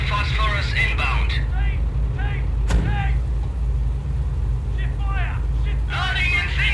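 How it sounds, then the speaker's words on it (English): Incendiary mortar rounds fall on infantry in the video game Company of Heroes, with one sharp impact standing out over a constant low rumble of battle. Radio-style voices talk throughout. "to barrage the infantry with incendiary rounds again"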